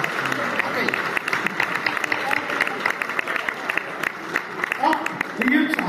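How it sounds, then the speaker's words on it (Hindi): A crowd at a Rishikesh spring festival claps steadily for a comic poet, a dense, continuous patter of many hands with a voice talking over it. "एक बार मेरे स्वागत में जोरदार तालियां बजाइए।"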